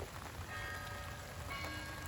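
Steady rain hissing and pattering on a surface, a constant even wash of sound with no talking.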